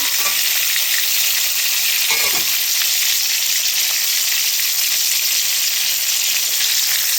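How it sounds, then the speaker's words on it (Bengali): Eggplant mash frying and being stirred in a pan for a mashed eggplant dish, a steady close hiss of sizzling with a brief scraping stir near the start. "আবার একটু নাড়াচাড়া দিয়ে নিলাম"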